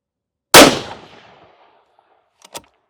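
A single loud, sharp gunshot from an Aero Precision Solus rifle chambered in 22 GT cracks close by and rings out in a decaying tail, followed by a faint brief metallic click.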